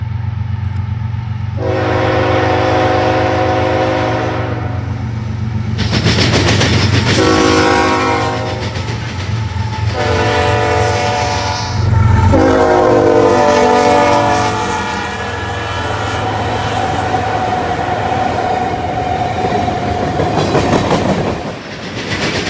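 Canadian National freight train led by two GE GEVO locomotives passes close by, sounding several long, loud horn blasts over the rumble and clickety-clack of the cars.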